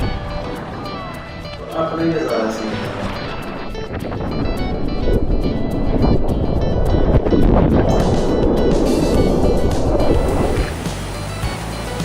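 Ocean surf breaks on a beach in Lombok, with a continuous broad roar of waves and gusts of wind buffeting the microphone while voices talk over it.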